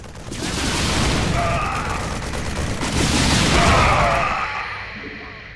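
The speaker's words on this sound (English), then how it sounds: "This is the Banshee. It fires a volley of rockets at enemy ground targets." Rocket volleys from a Terran Banshee gunship in the StarCraft video game: dense, rolling bursts of explosive fire that swell twice and fade, loud and close, with faint radio-style voices mixed in.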